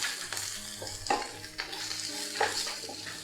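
Curry leaves and chopped dill greens frying in a pan over medium flame, a soft steady sizzle broken by repeated spatula scrapes and stirring, heard up close without talk.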